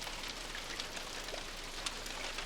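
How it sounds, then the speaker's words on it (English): Rain falling on a tin roof, a soft, continuous patter of many small drops with a few sharper individual taps standing out, faint and steady throughout. "the rhythmic sound of rain on his tin roof"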